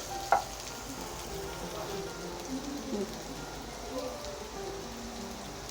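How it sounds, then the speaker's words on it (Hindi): Boiled chickpeas fry in a pan over low heat, giving a steady soft sizzle with light stirring scrapes and one sharp clink near the start; no talking. "1 प्याली मैंने बॉयल छोले लिए हैं। स्लो हीट पे काम करें। थोड़ा सा चला लें इनको"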